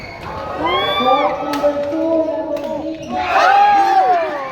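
Crowd at a basketball game cheering and shouting loudly, with several voices rising and falling in excited calls throughout.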